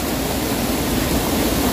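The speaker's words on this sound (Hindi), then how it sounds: "पानी का ना बहुत ज़्यादा नॉइस है यहाँ पे" Rushing water at a hidden waterfall near Dehradun, a dense, steady roar that is loud and close, filling the whole moment with no other sounds.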